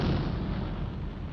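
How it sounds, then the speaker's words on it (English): A rumbling explosion sound effect from a Star Wars: The Empire Strikes Back audiobook cassette, a dense sustained boom that holds steady for over a second with no speech. "At the sound of the explosion,"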